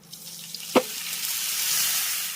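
Pumpkin greens dropped into hot oil tempered with coconut, with a sharp splash as they hit the pan followed by a steady, moderate sizzle of frying.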